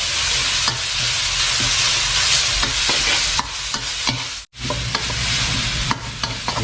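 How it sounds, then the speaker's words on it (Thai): Pounded chili, garlic and black pepper stir-frying over low heat in oil in a pan, with a steady sizzle and repeated scraping stirs throughout, loud and close with no talking. "ลงพริกลงกระเทียมนะฮะที่เราโขกไว้นะครับ รวมถึงพริกไทยดำ คั่วพริกคั่วกระเทียมให้หอมนะครับ"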